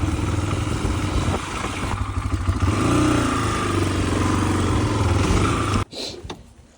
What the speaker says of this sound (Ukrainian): По льоду на дорожньому мотоциклі